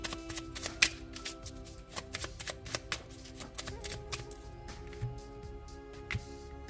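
Quiet, close shuffling of tarot cards for a reading gives brisk papery riffles and light taps in quick bursts, with no talk.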